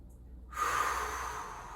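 One deep breath during a slow mid-morning workout, a brief breathy exhale that swells and fades over about a second, close and unaccompanied by speech.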